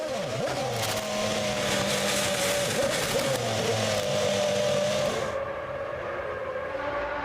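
A Formula One car engine at the Malaysian Grand Prix screams loudly at high revs, a sustained whine with pitch shifts as the car spins, then cuts to a quieter, duller drone near the end.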